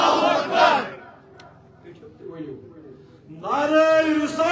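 A crowd at a Mawlood-e-Kaaba religious conference lecture loudly chants the takbir slogan Allahu Akbar, with strong voiced bursts at the start and end and quieter murmuring between.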